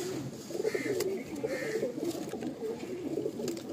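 Madrasi pigeons of pure bloodline coo steadily and close by in a repeating, low, rolling rhythm, with a faint background hum and no talking.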